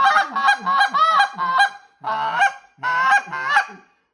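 A hand-blown goose call imitates honking geese with a run of loud, close, nasal honks in quick bursts, broken by short pauses, with no other sound.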